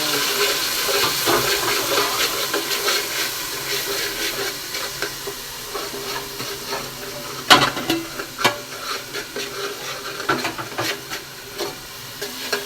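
Shallots and garlic paste fry and sizzle steadily in a pan while the mixture is stirred, setting off a few sharper scraping clatters, with a faint voice in the background.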